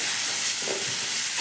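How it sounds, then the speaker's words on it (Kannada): A pan of tomatoes being fried and stirred on the stove gives off a steady, close hiss of sizzling, with faint scraping from the stirring and no talk. "ಚೆನ್ನಾಗಿ ಕೈ ಹಾಕಿ ಸ್ವಲ್ಪ ಫ್ರೈ ಆಗಲಿ."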